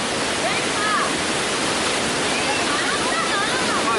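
Himedaki waterfall in Shimane, Japan pours in a steady, dense roar of rushing water, constant and loud with no breaks, filling the whole scene.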